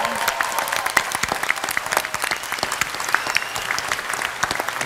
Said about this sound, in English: that brings us to a round of applause for all of you.